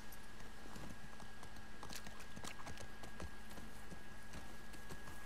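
Horse hooves clip-clopping at a steady walking pace in the video game The Last of Us Part II, moderately close and continuous over a constant ambient background hum, with no talk.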